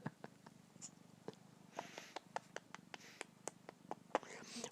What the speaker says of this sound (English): He's purring and meowing.